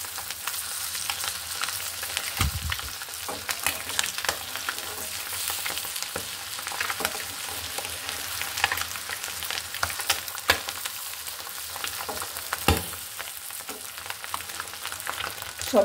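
Eggs frying in hot oil in a pan as they are flipped over, a constant loud crackling sizzle with scattered pops and spatters throughout.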